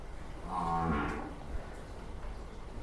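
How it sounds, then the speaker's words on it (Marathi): A Jafarabadi buffalo at a farm gives a single loud, drawn-out moo lasting under a second, close by against a quiet background. "फुल पॉवरची म्हैस आहे"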